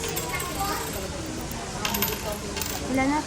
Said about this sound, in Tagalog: Tapos nagbibilang ng barya.